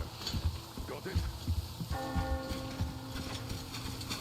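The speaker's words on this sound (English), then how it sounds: "Do you hear that bell?" A bell tolls in the game Metro Exodus, its sustained ringing tones entering midway over a rumbling, clattering game soundscape and lingering to the end, with no talk.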